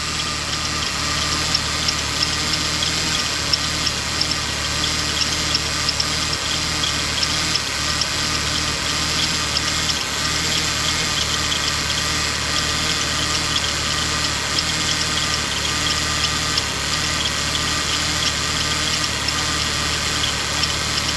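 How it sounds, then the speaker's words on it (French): A Ford Taurus engine with a power-loss fault and fluctuating RPM runs continuously with a loud, hissing, rushing drone, close up and fairly even throughout, with no talking. "Et écoutez bien virer le moteur."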